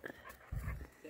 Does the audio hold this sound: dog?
yes